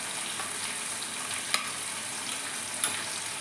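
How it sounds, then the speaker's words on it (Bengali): Chicken chaap pieces fry in hot oil as spice paste and whisked sour curd are added, giving a steady close sizzle with a couple of sharp spoon knocks against the pan. "এর সঙ্গে অ্যাড করছি একটু ফেটিয়ে রাখা টক দই"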